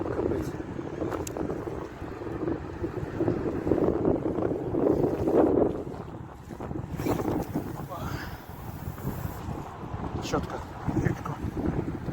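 Wind gusts buffet the microphone in a steady rumbling roar, rising and falling, with voices talking intermittently over it, during daytime fishing in central Kyiv.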